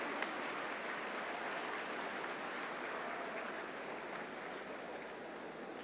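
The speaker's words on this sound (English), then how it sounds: "Big round of applause for Rajeshwari Pandey ma'am." A crowd applauds steadily, a dense wash of clapping that holds without pause for several seconds.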